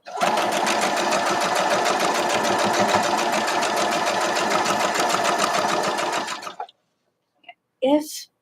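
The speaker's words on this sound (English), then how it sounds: "but I'm going to fix it as I sew." A sewing machine stitches fabric quilt blocks in a fast, steady mechanical whir for several seconds. It stops abruptly, and a couple of faint handling sounds follow.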